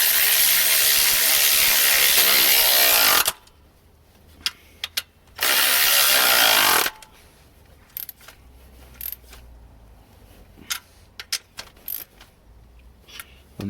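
A ratchet tightens 13 mm bolts on the sump bracket of a Ford Fiesta 1.0 EcoBoost, heard from underneath the car: two long bursts of rapid clicking, then scattered short clicks and knocks close by.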